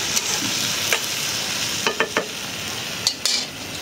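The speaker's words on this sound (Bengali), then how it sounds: "লাল শাক ভাজি।" Red amaranth leaves stir-fry in a pan with a steady close hiss, broken by several sharp scrapes and taps of a spatula against the metal.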